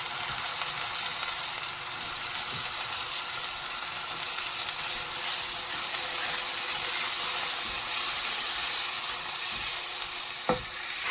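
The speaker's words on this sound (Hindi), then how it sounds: "मटन को फ्राई करेंगे जब तक इसका कलर चेंज हो जाए" Mutton pieces fry in a pan for a creamy restaurant-style handi, giving a steady, continuous sizzle with crackling and stirring all the way through, close and fairly loud, with no talking.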